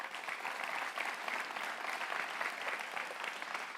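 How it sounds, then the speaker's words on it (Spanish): Sustained applause from a church congregation, many hands clapping evenly at a moderate distance without a break, with a soft crowd murmur under it. "¿Por qué no le damos un aplauso al Señor?"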